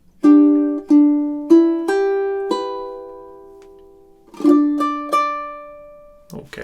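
Ukulele picks out measures 19 and 20 of a song, eight or so bright plucked notes that sustain and fade, followed by a short voice at the very end.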